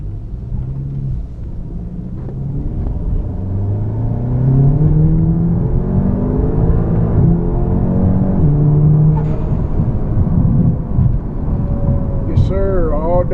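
Audi S3 tuned to about 401 all-wheel horsepower on 30 psi of boost revs loudly, a sustained rising and falling engine drone with a whine near the end.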